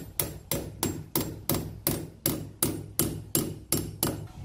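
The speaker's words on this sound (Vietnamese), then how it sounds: "dùng búa đóng lên cái con vít này để đẩy con tắc kê này đi vô trong tường" Hammer driving a screw into a plastic wall plug in a wall, about a dozen sharp, evenly spaced metallic blows, close and loud with no talk.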